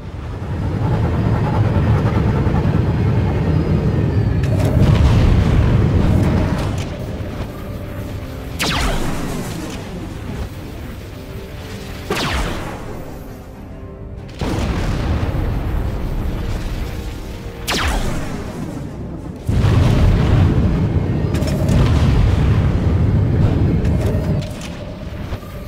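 Heavy booming blasts from enemy missiles in a Star Wars: The Old Republic space battle, several loud rumbling explosions in bursts separated by brief quieter gaps.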